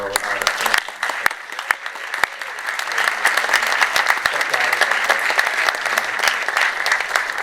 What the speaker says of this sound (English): I just want to give another round of applause to Michael Kasino.